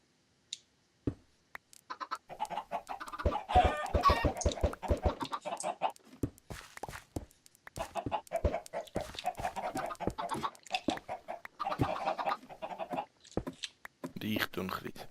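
Minecraft chickens cluck on a growing chicken farm in short, irregular bursts, some close and some softer, mixed with clicks and game sounds while someone talks.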